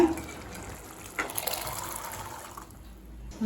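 Water pours briefly into a pan of black chickpea masala gravy, a soft gushing splash rising then fading over a couple of seconds, nearby and fairly quiet.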